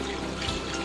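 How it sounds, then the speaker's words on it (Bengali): Water pours into a pot of mutton curry in a brief, steady splashing gush, close and continuous for under a second. "এবার আমি এতে জল দেব।"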